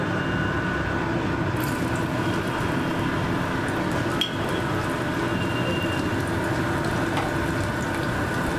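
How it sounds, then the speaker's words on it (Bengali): Chopped garlic dropped into hot oil sizzles steadily, a dense crackling hiss at moderate level that stays even throughout with no talk. "রসুন কুচিটা ছেড়ে দেব"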